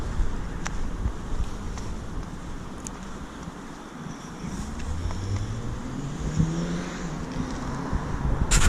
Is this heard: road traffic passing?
yes